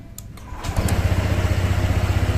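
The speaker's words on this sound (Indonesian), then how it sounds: "Ini starternya kita coba nyalakan." Honda ADV 160 scooter cranked with its starter: a brief whir and clicks, then the engine catches and settles into a close, even, pulsing idle.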